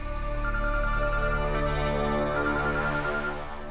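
A phone ringtone chimes steadily for several seconds, a loud tonal melody filling the room alone with no talk over it, fading slightly at the end, in a Hindi TV drama scene.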